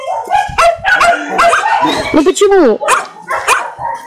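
Several hungry dogs bark, yip and whimper in a busy, overlapping chorus, close and loud, while a person speaks Russian over them.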